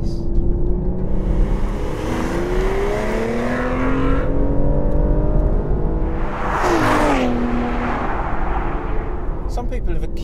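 Aston Martin Vanquish engine revving hard as the car drives, a loud continuous roar with rising and falling pitch sweeps and a sharp surge near the end.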